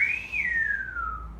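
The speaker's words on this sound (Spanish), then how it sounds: "Si silbamos, yo no sé silbar, pero lo voy a intentar." A single sustained whistle from someone who is not confident at whistling; the thin tone rises slightly, then glides slowly downward and fades over about a second and a half, heard alone with no talking.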